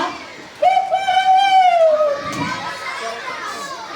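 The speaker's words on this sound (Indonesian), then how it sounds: "mendengar suara ayam berkokok" A single long rooster crow rings out clearly, followed by children chattering and shouting in the background.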